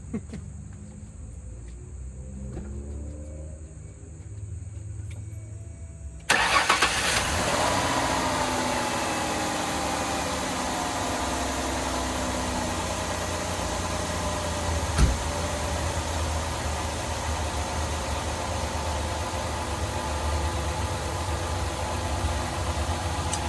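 A 2003 Mazda Tribute cranks and catches after a quiet stretch of crickets, then settles into a steady close idle whose low rumble and faint whine carry on evenly, with one brief knock partway through.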